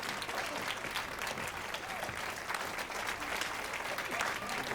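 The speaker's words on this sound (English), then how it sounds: "Clap." Crowd applause in the video game The Witcher 3, a dense, continuous clapping from many hands that holds at an even level throughout.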